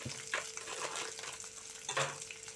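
Green chillies fry in oil in a pan, giving a soft, crackling sizzle with a few sharper pops, faint and close, and no talking.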